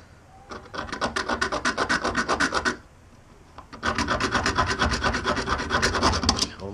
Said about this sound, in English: This is actually kind of hard to do with just a hacksaw.